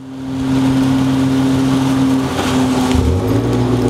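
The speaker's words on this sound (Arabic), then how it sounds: "صار عندنا اول كبسه فوق لتدوير المحرك عن بعد رح نجربها هلا" A 2021 Nissan Xterra engine turns over by remote start and settles into a steady idle, a low hum with a rising rumble near the end, heard alone without voices.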